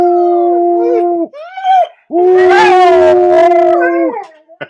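A dog howls in long, wavering tones, loud and close, in two main drawn-out howls separated by a short break, with a person's encouraging whoops mixed in nearby.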